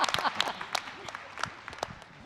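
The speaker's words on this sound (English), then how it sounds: "Please, a round of applause." An audience at a conference general session applauds with a brief, moderate burst of clapping that thins out over two seconds, heard from a distance with a faint murmur underneath.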